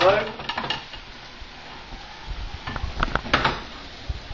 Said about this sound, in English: Now what we need to do is just slide it back into the pan, like so.